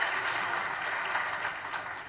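An audience at an awards ceremony honouring farmers, the Bhuiyan Ke Bhagwan Samman 2024, gives steady, fairly faint applause throughout to welcome guests onto the stage.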